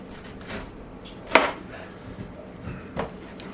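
A kitchen knife slicing down through a whole pineapple on a cutting board, one sharp crunching chop followed by a few softer cuts and thuds, close and quiet, no talking.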